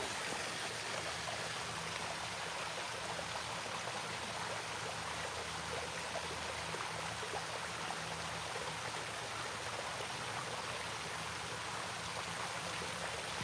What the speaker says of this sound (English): You can sit there and listen to the water.